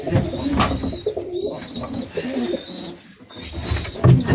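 Pigeons coo in low, throaty bursts close by in a coop, mixed with rustling and faint chirps throughout.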